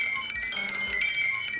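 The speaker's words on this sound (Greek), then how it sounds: "Το κουδούνι της εποχής. Έτσι χτυπάγανε το κουδούνι" An old-fashioned bell rung by hand in a traditional mansion museum on Chios, giving bright metallic clangs in a quick irregular series, close and fairly loud.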